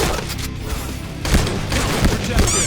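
Shotgun blasts from the Point Blank online shooter, a few sharp, loud booming shots landing in quick succession over game background noise.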